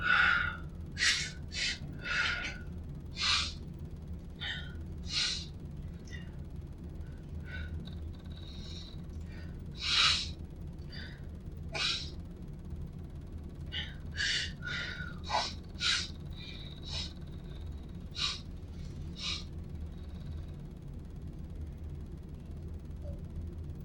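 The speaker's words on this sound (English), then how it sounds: "Your nose not through your mouth. Just calm your breathing." Heavy, ragged breathing with repeated sharp gasps and snorts during an interrogation, close and moderately loud over a low steady room hum, with no talking.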